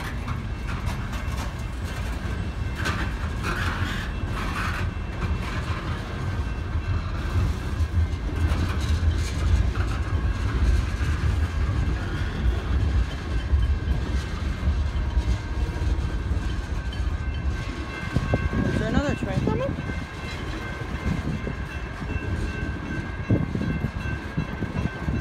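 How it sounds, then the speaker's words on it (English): A freight train rolls past on Puget Sound rail lines, a loud steady rumble and rattle of cars with low engine drone throughout, brief horn-like tones mid-pass. "Guys, I think there's another train coming."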